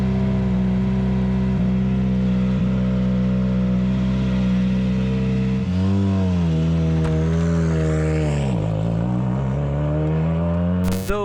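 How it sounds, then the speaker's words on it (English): WRC Rally1 cars heading to a rally stage in Croatia, loud engines droning and then revving and shifting pitch as they pass close, with no talk. "Those are cars heading into what is the second stage of something"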